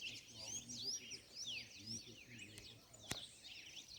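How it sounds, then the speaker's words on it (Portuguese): Birds sing and chirp continuously at a rural farm with a mandacaru cactus nearby, bright overlapping calls near to mid-distance, with a sharp click partway through and faint low murmuring beneath. "Ó, os pássaros cantando."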